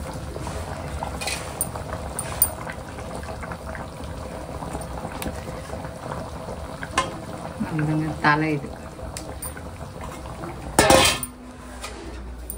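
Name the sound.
fish curry boiling in pot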